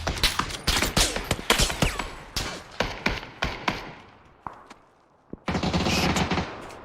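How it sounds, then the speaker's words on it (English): Rapid bursts of automatic gunfire crackle across a river in a PUBG match, dense volleys of shots with a few isolated single cracks, then a brief lull before a loud sustained barrage resumes. "They're shooting across us too."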